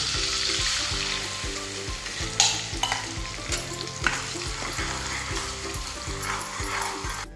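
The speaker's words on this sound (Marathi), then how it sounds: "मसाला भाजलेला आहे, मसाल्याला तेल सुटलेले आहे।" Ground masala for Kolhapuri mutton curry frying in oil, a steady close sizzle with stirring scrapes and a few sharper clatters, no voices.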